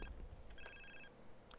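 A single brief electronic phone ring chirps faintly over a low background rumble in GTA San Andreas.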